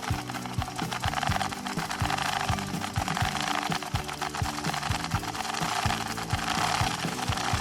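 A bike chain runs through a WD-40 chain cleaner fitted with gears and brushes, giving a loud, continuous mechanical clatter with a steady rapid ticking rhythm close by.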